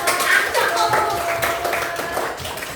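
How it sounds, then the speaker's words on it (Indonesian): Pupils in a primary school classroom clap together, a loud, close, slightly uneven burst of hand claps that continues steadily throughout. "Silakan beri tepuk tangan dulu."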